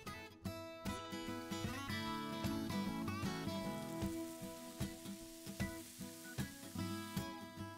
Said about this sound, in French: versez un verre d'eau sur la plancha et raclez les impuretés